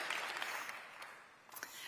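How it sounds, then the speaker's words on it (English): Audience applause at a festival's opening night, a soft, distant patter of many hands clapping that thins out and fades, then swells briefly again near the end. "You all clapped."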